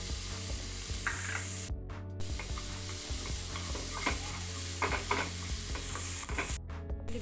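Onion frying in butter for masala corn sizzles continuously in a pan, with steady stirring scrapes and two short breaks in the hiss.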